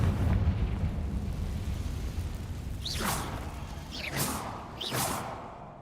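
Confringo fire spell blasts in the video game Hogwarts Legacy: three whooshing bursts a second or so apart over a low, rumbling ambient bed, moderately loud with no talking.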